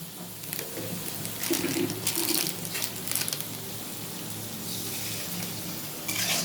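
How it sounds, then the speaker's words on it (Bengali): Oil and spices for tarka sizzling steadily in a frying pan as a little water is poured in, with brief bursts of louder crackle and splashing over a constant hiss, plus faint birdsong in the background. "অল্প করে জল দিয়ে দিলাম"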